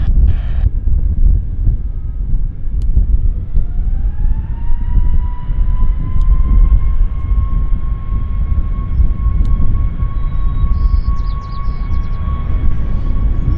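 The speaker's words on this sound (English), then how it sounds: "Got a Max. Max is heading to YEG, Edmonton. It's Air Canada flight 238." An Air Canada Boeing 737 Max airliner roars loudly and continuously with heavy rumble and wind buffeting, and a rising engine whine settles into a steady high tone.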